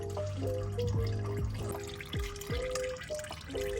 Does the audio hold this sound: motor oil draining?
yes